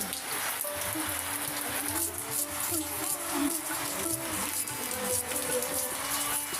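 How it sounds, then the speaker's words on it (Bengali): Steady rain falls on a flooded street during an all-day downpour, making a dense, continuous hiss and patter. Faint murmurs sit beneath it. "এই যে এখনও বৃষ্টি হচ্ছে"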